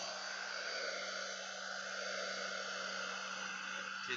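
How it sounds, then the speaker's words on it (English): Blow dryer on its hot setting drying paint, a close, steady whooshing airflow with a low motor hum running unbroken throughout, no talking. "just use the blow dryer on hot and dry it out"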